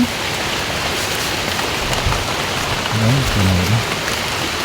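Steady rain falls in a dense, loud, continuous patter on the surfaces outdoors, with a brief low voice murmuring beneath it.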